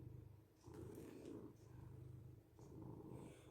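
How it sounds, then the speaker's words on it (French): A cat purrs loudly and close up, a low rumbling drone rising and falling with each breath in a quiet room, with no voices. "Tu ronronnes fort, mon grand."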